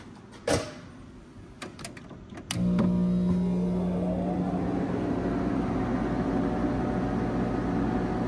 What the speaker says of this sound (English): We're not going to power up the VAX we'll power up the big two RL02 drives